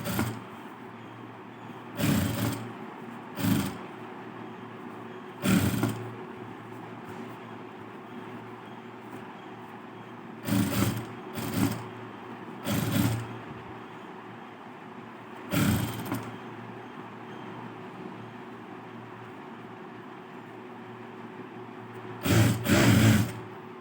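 A sewing machine runs in short, separate bursts, stitching a lined blouse back piece, with quiet pauses between each run of stitches.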